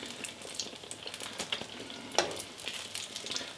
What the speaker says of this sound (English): I'm going to repeat this process of frying them until all the eggplant is all fried up